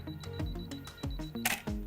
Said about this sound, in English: To start your interval timer, you simply just hold the shutter button to take the first photograph.